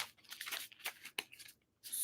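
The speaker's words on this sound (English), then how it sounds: "let's do another couple shuffles, and then we'll pull your cards" Tarot cards being shuffled by hand in a quiet room, a run of soft papery riffles and flutters coming in several short bursts with small gaps between them.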